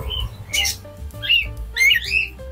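A hand-tamed pet sun conure parrot lets out several shrill, piercing squawks close by, in quick bursts with short gaps between them.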